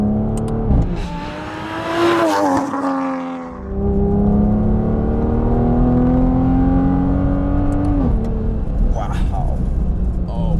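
A big-turbo Toyota Supra running on E85 accelerates hard through the gears, a loud rising engine note that drops briefly at a shift and then climbs again as occupants talk over it.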